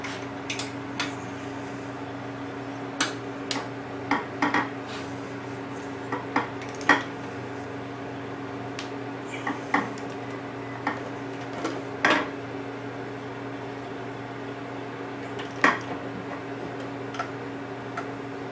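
A torque wrench tightens the bracket bolts of a Harley-Davidson Tour-Pak, giving sharp, scattered ratcheting clicks and ticks close up over a faint steady hum.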